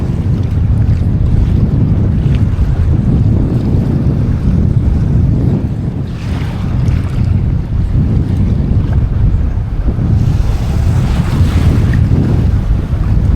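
Strong wind roars steadily across an open sand flat by the Swan River in Perth, buffeting the microphone in loud, continuous low rumbling with gusts and a brief lull midway, no voices.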